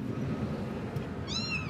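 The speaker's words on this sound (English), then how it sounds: "you could hear the kitten crying" A kitten trapped in a drain pipe gives one faint, thin meow near the end, heard over a muffled, hollow background rumble.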